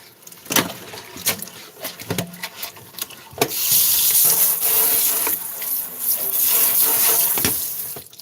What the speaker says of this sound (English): dip it in the water with the bleach and go wash it again.